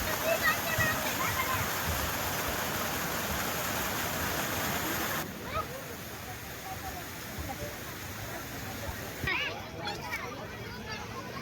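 Strong water rushes through a dam at the Khunta fair in Mayurbhanj, a loud continuous roar for about five seconds that then drops to a quieter steady flow, with people talking nearby.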